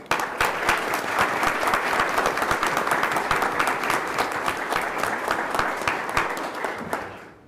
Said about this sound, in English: So how about a round of applause for them?